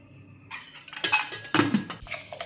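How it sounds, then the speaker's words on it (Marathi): An iron griddle set down on a gas stove gives a few metallic clanks and clinks, close and fairly loud, in short bursts over about two seconds. "आता मी गॅस ऑन करणार आहे आणि त्यावरती लोखंडी तवा ठेवणार आहे"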